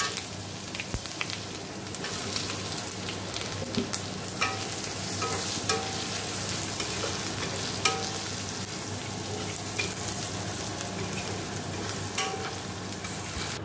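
Paneer with ground cumin, coriander and Kashmiri chili powder is stirred and fried in a pan, giving a continuous close sizzle broken by occasional scraping clicks of the spoon.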